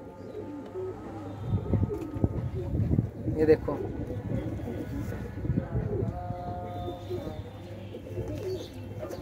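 Low, soft cooing of Pakistani pigeons rises and falls beneath nearby speech, with a steady background rumble throughout.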